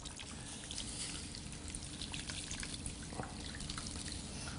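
Water pours steadily into a pot of brisket with chilies, a soft continuous trickling and splashing at close range with no talking.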